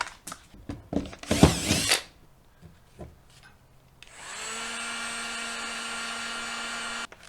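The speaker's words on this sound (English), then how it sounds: "When it comes to shrink wrap, heat gun is always better than a lighter." Heat gun shrinking boat shrink wrap on a jon boat, a steady whining blower hum holding for about three seconds near the mic after some rustling and handling noise.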